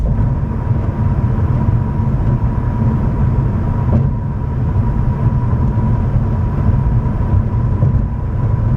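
Loud, continuous low rumble of a truck engine driving right behind the camera, a heavy steady drone with no talking.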